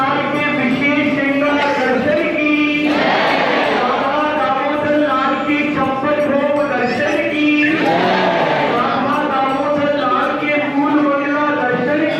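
A dense crowd of devotees at a temple in Vrindavan, a loud, continuous wash of overlapping voices filling the space without pause, close and enveloping.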